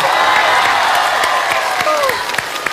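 Audience applause and cheering in a televised singing-competition studio, a loud crowd wash of clapping with a rising whoop, fading slightly toward the end.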